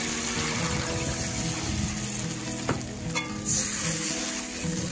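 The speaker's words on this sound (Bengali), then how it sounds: "এবার একটু ঝালের জন্য জল দিয়ে দিচ্ছি।" A steady loud sizzle of mustard-poppy paste in a hot pan for fish curry, with a sharp pop and then a louder rushing hiss near the end as water goes in.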